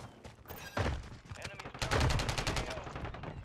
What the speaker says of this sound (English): I just shot a mortar.